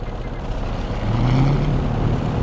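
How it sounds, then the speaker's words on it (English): Right engine of a P-38L twin-engine fighter starting up in Microsoft Flight Simulator, a low rumbling engine swelling in loudness partway through with a rising droning tone, heard steadily without talk. "Start up the right engine."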